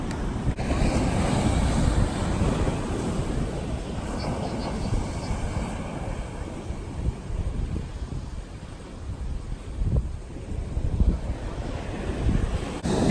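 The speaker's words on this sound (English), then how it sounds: "it's super windy here" Strong wind buffets the microphone over steady roaring surf on a South Florida beach after Hurricane Dorian, a continuous loud rush with occasional heavier gusts and no talking.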